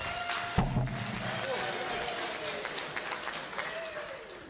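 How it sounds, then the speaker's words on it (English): Audience applause at a parliamentary committee public hearing, a burst of clapping from a seated crowd that carries steadily and tapers off, with a voice speaking over it. "Please give social development a round of applause."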